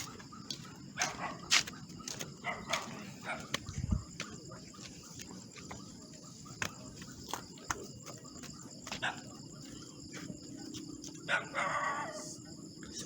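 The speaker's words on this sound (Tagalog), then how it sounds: "Sobrang ingay ng aso." Dogs bark on and off in the distance at midnight in Cagayan de Oro City, scattered single barks over a quiet hum, with a rooster crowing briefly near the end.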